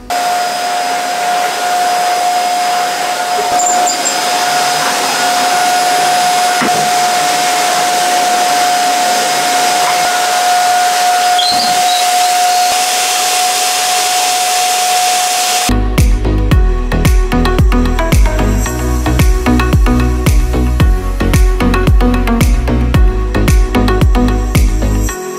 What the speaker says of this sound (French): Et maintenant je vais passer un petit coup d'aspirateur.